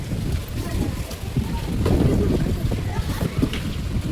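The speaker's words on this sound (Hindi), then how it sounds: "हवा बढ़िया आ रहा है।" Strong wind gusts roar steadily across the microphone outdoors, a dense low rumble that swells in the middle and keeps up without pause.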